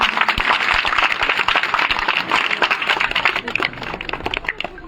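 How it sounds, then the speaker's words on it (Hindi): A village crowd claps loudly to welcome a political guest during a public outreach visit, with dense, sustained applause and scattered sharp claps, plus voices mixed in. "एक बार आप सब लोग जोरदार तालियों से स्वागत"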